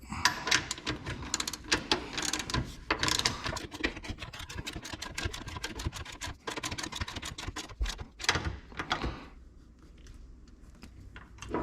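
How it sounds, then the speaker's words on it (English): Hand wrench tightening a nut on a steering rack safety bracket of a Factory Five MkIV Roadster, heard as a dense run of quick, close ratcheting clicks that thin out near the end. "Wrench on the nut."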